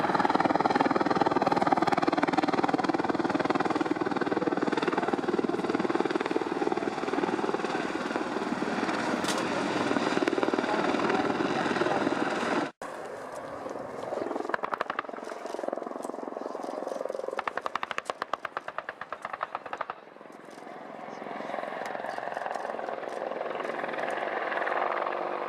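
Apache attack helicopters fly a display at the Royal International Air Tattoo 2015 air show, a loud continuous rotor roar that cuts off sharply midway and comes back as thinner, fluttering engine noise.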